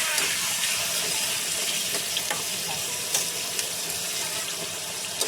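Chicken pieces with a little liver sizzle and fry in a hot pan for adobo, a steady close crackling hiss with occasional stirring scrapes and clicks.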